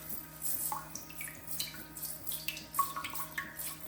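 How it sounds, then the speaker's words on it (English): The front wash of a Casta Diva smart toilet with built-in bidet sprays water in a soft, continuous hiss with splashing and dripping, over a faint steady pulsing hum from the unit, quiet and close with no talking. "let's try front wash"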